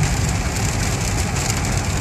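Heavy rain falls steadily during a November thunderstorm south of Lyon, making a dense, loud, continuous wash of noise with no gaps and no voices.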